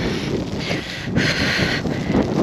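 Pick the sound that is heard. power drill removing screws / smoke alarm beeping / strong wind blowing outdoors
strong wind blowing outdoors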